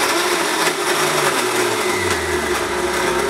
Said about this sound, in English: The blender is on